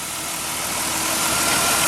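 A 2000 Dodge Intrepid ES with its 3.2 liter engine idles in a steady, even hum that holds at a constant level throughout, close and fairly loud, with no voices.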